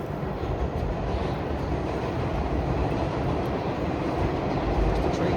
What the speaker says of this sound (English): There's the train passing by.